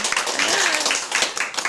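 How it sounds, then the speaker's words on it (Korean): Audience clapping at a fermented apple vinegar making class, a dense burst of many hands applauding together at close range, fairly loud and steady for under two seconds with no talk over it. "다시, 박수."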